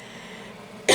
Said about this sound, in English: I start choking and coughing